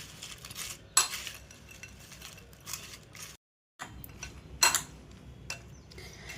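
A spoon scrapes and clinks in a bowl, mixing Lay's chips chaat with coriander in short bursts separated by brief pauses, with sharp clatters standing out against quiet background hiss.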